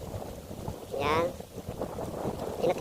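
Gusty wind buffets a DJI Mini 3 drone's microphone in low rumbling bursts, with a brief rising whine of a motor partway through.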